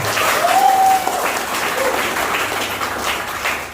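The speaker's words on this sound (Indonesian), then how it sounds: "Tepuk tangan, rekan-rekan." Audience applause at an Indonesian community talk, a loud, continuous burst of many people clapping over a few seconds with a faint tonal whine running through it.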